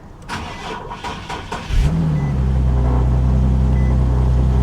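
A 2017 BMW M3 salvage car cranks briefly and fires up, settling into a steady, loud idle rumble close by, with no talking.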